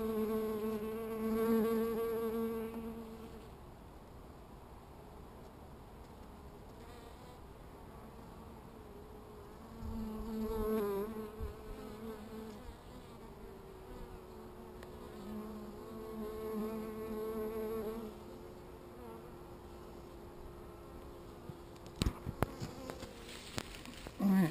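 Bees buzz around a hive entrance with a wide landing board, individual insects droning close by in waves that rise and fade over a steady outdoor background, with occasional handling knocks near the end.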